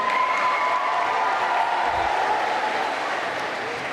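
Sustained audience applause at a middle school 6th and 7th grade awards ceremony, a steady, dense wash of clapping holding at an even level throughout with faint crowd noise mixed in.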